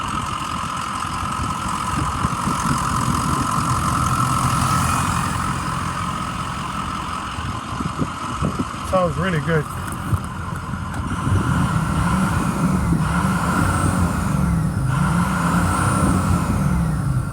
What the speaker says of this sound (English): Let me rev it up for you so you can hear it.